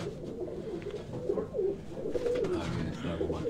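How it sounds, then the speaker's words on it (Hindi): Mixed breeds of pigeons, including F16 pigeons, coo steadily in a low, warbling, continuous chorus close by, with a few overlapping rolling calls throughout. "ये दो तीन किस्म के कबूतर मिक्स हैं आपस में"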